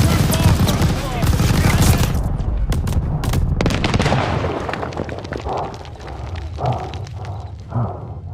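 Heavy gunfire from a World War II battle in the video game Call of Duty: Vanguard, dense, loud bursts of machine gun fire and explosions crowding the first seconds, then sparser, distinct shots with a few louder booms.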